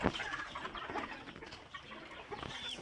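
A rooster and some smaller chickens in a backyard coop make brief clucks and calls, close and moderate in volume, scattered over a few seconds with no talk.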